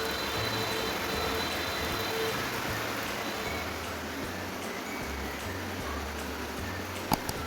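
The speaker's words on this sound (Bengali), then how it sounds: "একবারে নীরবে বৃষ্টি পড়তেছে।" Quiet rain falls steadily on a rainy day, a soft even patter with a low hum from a passing vehicle or engine underneath and one sharp tap near the end.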